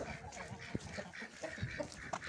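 Soft clucking from a chicken or two close by, in short irregular bursts over low background noise.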